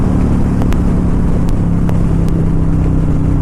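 Steady low engine drone from a Kawasaki Vulcan cruiser motorcycle with aftermarket exhaust pipes, heard while riding at speed in traffic, loud and continuous with a few faint high clicks.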